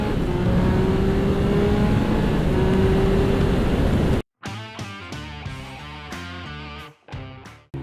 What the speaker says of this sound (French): on va se faire une petite partie ville sur cette Triumph Speed Triple 1200 RS